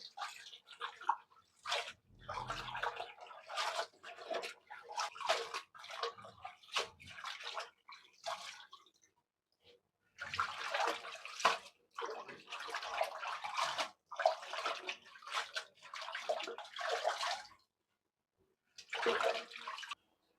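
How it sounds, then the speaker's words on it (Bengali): Water spinach (kalmi greens) being washed by hand in water, bursts of splashing and sloshing close by in irregular strokes, with short silent gaps between. "এখন আমি শাকগুলি ভালো করে ধুয়ে নিচ্ছি এভাবে।"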